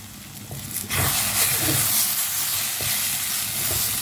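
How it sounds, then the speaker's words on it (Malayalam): Beaten egg poured over vegetables in a hot pan bursts into a loud, steady sizzling hiss about a second in, continuing strongly with faint scrapes and no talking. "മിക്സ് ചെയ്തെടുത്തതിന് ശേഷം നമ്മുടെ വെജിറ്റബിളിനകത്തിലോട്ട് ഈ മുട്ടയൊന്ന് ഒഴിച്ചു കൊടുക്കാം"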